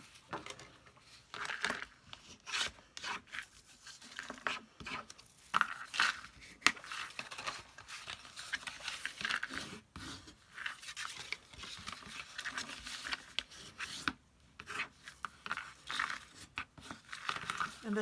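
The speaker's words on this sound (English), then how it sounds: "edges with my bone folder." A bone folder rubs and burnishes the creased edges of a cut paper gift box, giving repeated dry crinkling and scraping strokes at close range, with no talking.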